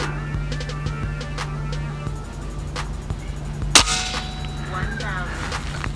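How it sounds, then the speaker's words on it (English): A Hatsan Factor BP 4.5mm air rifle fires at a ping pong ball 50 meters away: a single sharp, loud crack midway, with faint clicks and a quiet background before it. "Let's see if I can redeem myself and shoot the ping pong ball at 50 meters."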